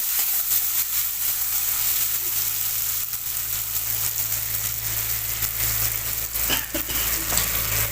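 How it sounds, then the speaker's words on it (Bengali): Tilapia spice paste with turmeric, chopped tomato and salt fries in a pan, giving a steady, close sizzle throughout, with a few faint clinks near the end. "এবার একটু মশলার সাথে কষে নেবো"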